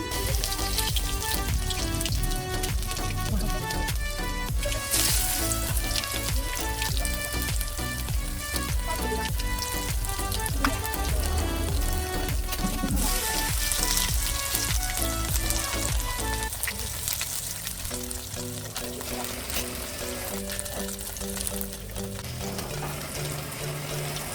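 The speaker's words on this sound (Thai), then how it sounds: "แหนมของเราก็เปรี้ยวแล้วนะคะ จะมาทอดกันเลย" Batter-coated naem, a fermented pork, with caviar frying in oil, a constant crackling sizzle running beneath loud music throughout.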